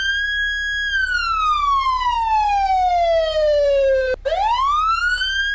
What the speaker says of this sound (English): This is their new sirens.